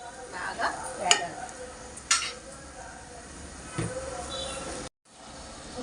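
Onions fry with a pinch of salt in a pan for aloo korma, a soft sizzle with a few scraping stirs, then a brief drop to silence before the sound returns.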